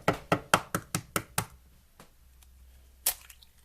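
Eggs cracked sharply for brownie batter: six quick, evenly spaced cracks in a row, then a pause and one more crisp crack, close and clear with no talking.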